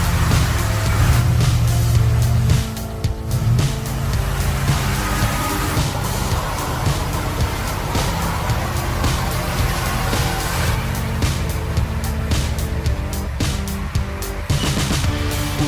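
A Kamaz truck hauling timber off-road, a dense, continuous low engine drone and rumble with clattering, mechanical knocks throughout, loud and close.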